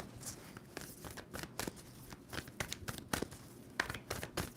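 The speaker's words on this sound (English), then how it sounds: "2 more shuffles for Virgo." A deck of tarot cards being shuffled, with repeated quick papery riffles and crinkly slaps in an irregular rhythm, close and fairly quiet.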